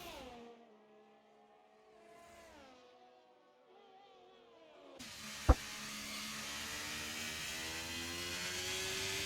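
A Ferrari race car on a hot lap in a racing game, its engine note rising and falling through gear changes, faint at first and then louder over a steady broadband roar with a brief sharp click.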